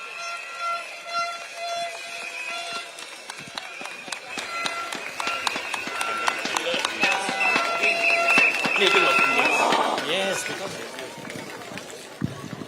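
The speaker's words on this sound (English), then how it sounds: "Come on, let's get a big round of applause for Miss Stella So." A crowd claps and cheers at an evening political rally in East Coast GRC, Singapore, the applause swelling to a loud wash before fading, with voices and shouting mixed in.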